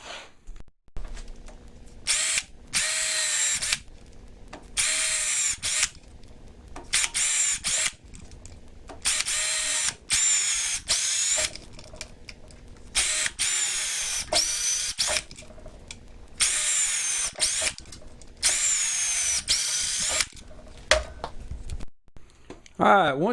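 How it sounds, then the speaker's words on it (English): Power drill boring holes at a slight angle into homemade bushcraft camping gear, loud whining bursts repeated in a steady stop-start rhythm with short pauses between, some faint talking in the gaps. "I'm just going to drill them at a slight angle going in"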